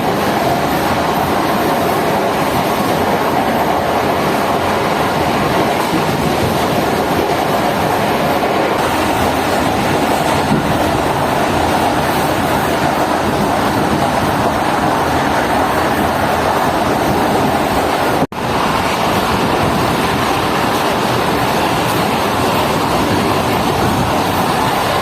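The Shah Latif Express on its inaugural run from Karachi to Mirpurkhas, running between stations: a loud, continuous rolling rumble with a steady rattle, unbroken for about twenty-five seconds, with no voices.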